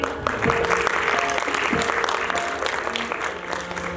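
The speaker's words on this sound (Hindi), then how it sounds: "तालियां बजाइए।" An audience at the opening session of a startup expo applauds steadily for several seconds, a full room of clapping with faint tonal sounds and murmurs underneath.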